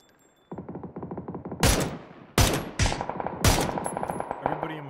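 Gunfire in the PUBG battle royale video game; rapid automatic bursts with several sharp, loud single shots that echo, firing continues in clusters over a few seconds.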